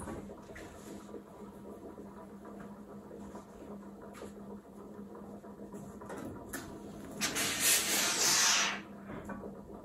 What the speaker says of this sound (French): Je passe vraiment un petit peu avec la vapeur.